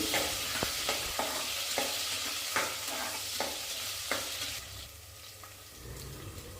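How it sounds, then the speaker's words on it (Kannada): Chopped onion and green chilli sizzle steadily in a pan while a spoon stirs them, sharp scraping strokes recurring about once a second over the constant frying hiss, close by. "ಒಂದು ದೊಡ್ಡ ಸೈಜ್ದು ಈರುಳ್ಳಿ ಹಾಕ್ಕೊಂಡು ಹಾಗೆ ಹಸಿಮೆಣ್ಸಿನ್ಕಾಯಿನ ಸೇರಿಸ್ಕೊಂಡು ಇದನ್ನೆಲ್ಲ ಚೆನ್ನಾಗಿ ಫ್ರೈ ಮಾಡ್ಕೋತಾ ಇದ್ದೀನಿ"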